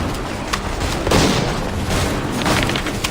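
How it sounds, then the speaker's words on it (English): Musket gunfire and explosions from a battle in the video game Assassin's Creed III fill the space with dense, continuous booming and crackling volleys, a loud, sustained wash of distant and near shots with no talk. "Return fire! Return fire!"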